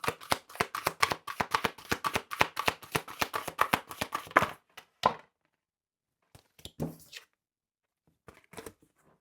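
A tarot deck being shuffled gives a quick burst of crisp, evenly spaced card clicks for several seconds, then near silence broken by a few soft handling sounds as cards are drawn.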